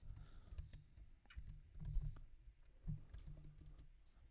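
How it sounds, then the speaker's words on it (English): Quiet, close keystrokes on a computer keyboard, irregular clusters of soft clicks and taps with brief pauses between them, faint and with no voices. "I'm just going to go ahead and type in my jokes"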